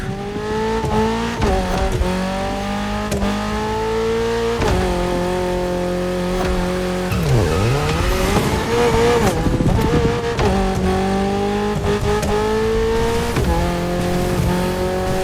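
A Toyota GR86's engine roars continuously in The Crew Motorfest racing game, revving up and down through gear changes, with a brief tire squeal midway, loud and close throughout.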